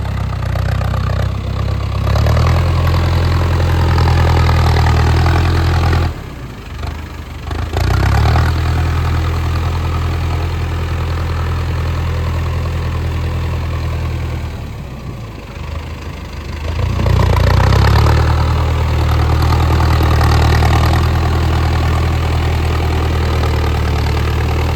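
A Mahindra Arjun Novo 605 DI 4WD tractor working a rotavator in deep mud, its diesel engine rumbling loud and close, steady with two brief dips in load before picking back up, no voices.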